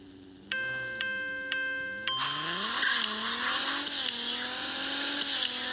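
Lamborghini Gallardo in the Racing Rivals game, a few beeping countdown tones followed by an engine revving up through rising gears, loud and close with no talk.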